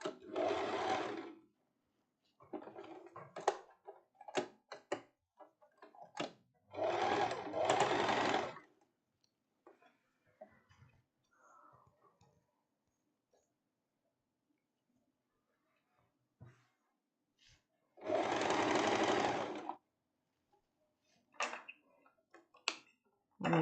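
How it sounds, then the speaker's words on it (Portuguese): A sewing machine closes the side seams of a crossover tank top in three long bursts of steady stitching, broken by short ticks, clicks and quiet handling of fabric. "vamos costurar o outro lado"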